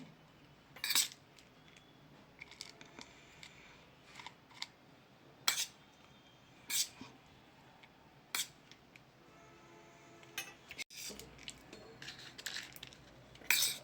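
A spoon mixes masala for papad cone chaat in a bowl, making scattered light metallic clinks and taps at irregular intervals over a quiet background.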